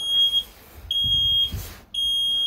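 An engine coolant alarm on a Shuttlewagon rail car mover sounds as a loud, piercing electronic tone in long repeated pulses, three beeps with brief gaps, over a low idling engine rumble.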